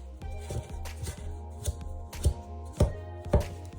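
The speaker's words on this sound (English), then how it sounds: "Gradually break up the butter, or margarine, sorry, not butter." A spoon breaks up margarine with caster sugar in a bowl, making a series of soft, scraping knocks and taps. They come in an uneven rhythm, close and fairly quiet.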